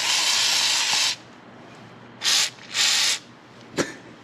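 WD-40 sprayed from an aerosol can during an MG Midget 1275 engine teardown. A long hiss opens, followed by two shorter close bursts and a single brief knock, with no voices.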